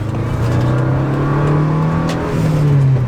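A Subaru car drives past outside, its steady engine drone and whirring tyre noise holding loud and close throughout, with a brief rise in pitch as it goes by.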